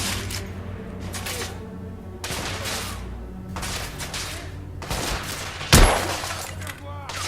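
Gunfire and shattering impacts in The Order: 1886, a steady fusillade of shots with one sharp loud blast near the middle, amid game effects.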